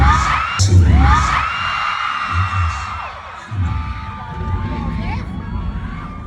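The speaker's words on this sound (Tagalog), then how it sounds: "Kay arihong video are puro sigawan na lang ang inyong maririnig." Concert crowd screaming and cheering, loud high-pitched shrieks and sustained yells layered over heavy booming bass thumps, with voices rising and falling across the crowd throughout.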